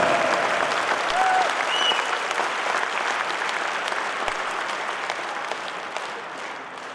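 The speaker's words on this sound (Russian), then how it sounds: "Ваши бурные аплодисменты." Dense, steady applause from a large concert audience at an anniversary show by a Buryat folk group, a continuous wash of many hands clapping that fades slightly toward the end.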